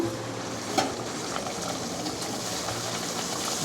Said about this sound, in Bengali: দেখো কচুরি ভাজি